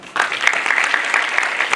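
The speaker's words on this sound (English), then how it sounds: "Clap for her." An audience of college students applauds a student at a women's college event, a short burst of dense, bright clapping that starts abruptly and holds steady for under two seconds.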